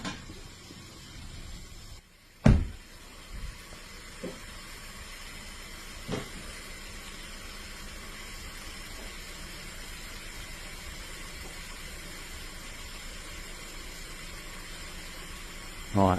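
A 2015 Volkswagen Golf 1.4 TSI engine idles with a misfire on all cylinders, giving a quiet, steady hum with faint hiss and a few sharp clunks near the start.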